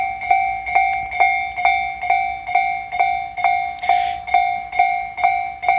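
A level crossing bell on the Tobu line in Kasukabe rings in a steady, even rhythm of sharp metallic dings, about two per second, loud and close while a Tobu 5000 series train approaches.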